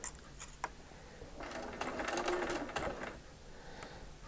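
A sewing machine stitching pieced fabric for an eight-point star quilt block, a quiet run of rapid mechanical chattering bursts with short pauses between them, close by.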